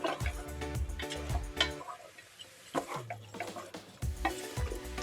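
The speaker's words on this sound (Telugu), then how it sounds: "కలిపి పెట్టేసుకుందాం" Stuffed eggplant masala mixture being stirred in a pan, with repeated scraping and knocking of a spoon against the pan in an uneven rhythm, close and moderately loud, with brief pauses and no talk.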